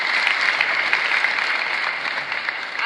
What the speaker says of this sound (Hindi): IAS ऑफिसर बनना है, जोरदार ताली बजाओ इसके लिए।